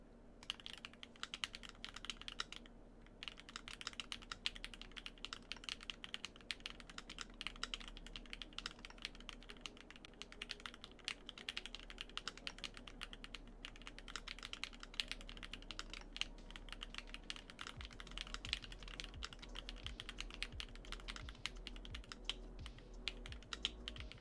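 Rapid, continuous typing on a KBDFans Margo keyboard with Bowl SW Cocoa Black switches, GMK keycaps, a silicone plate, foam gasket mounting and case foam, giving a dense, steady stream of muted keystrokes close up.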